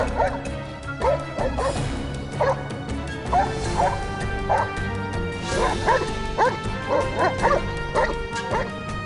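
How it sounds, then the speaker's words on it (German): Army service dog in training barking repeatedly to indicate a suspect, sharp loud barks and yips coming in irregular bursts over a noisy outdoor background. "dass er mit seinem Geruchssinn einen eventuellen Täter aufspürt und mit Verbellen anzeigt"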